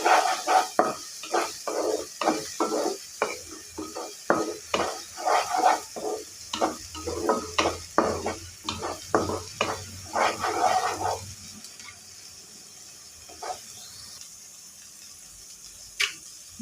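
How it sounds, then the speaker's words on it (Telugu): Prawn curry masala is stirred and fried in a pan: a rhythmic run of close spoon scrapes over a soft sizzle, which slows and thins out in the last few seconds, with no talk. "ఒకసారి కలుపుకోవాలి ఇదంతా మొత్తం పచ్చివాసన పోయేదాకా వేపుకోవాలి"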